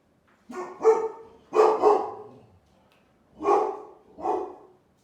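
A dog barks indoors in four close, loud pairs of barks separated by short pauses, with no talking over them.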